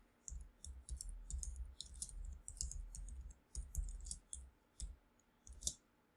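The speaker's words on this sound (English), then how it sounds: "So right now let's just type in" Blog post tags typed on a computer keyboard, faint quick clusters of key clicks in uneven bursts with short pauses, recorded quietly and close.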